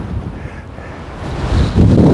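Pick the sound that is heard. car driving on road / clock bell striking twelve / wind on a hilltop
wind on a hilltop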